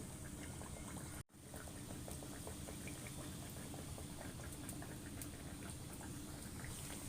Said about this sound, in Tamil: காஞ்ச உடனே நம்ம அந்த பரோட்டாவை எடுத்து இதில் போட்டு பொரிச்சிக்கலாம்